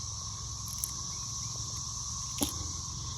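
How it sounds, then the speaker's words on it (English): Cicadas clinging to a garden pepper plant give off a steady, high insect buzz that drones on without a break, fairly faint, with a brief louder rustle near the end. "Got the cicadas."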